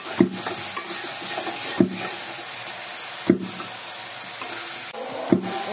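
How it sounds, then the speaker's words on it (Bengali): Potato chunks stirred into a spice mix in a frying pan while cooking a Bengali guchi fish and new potato bhuna, giving a steady frying sizzle broken by a few distinct stirring scrapes and knocks. "এখন আমি আলু দিয়ে দিব, আলুটা চাক চাক করে কেটেছি, এই আলুটা দিয়ে দিব।"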